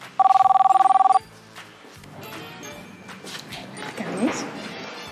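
A telephone bell rings loudly with a rapid electronic trill for about a second at the start, then stops, followed by voices talking in a domestic scene from a Greek TV comedy series.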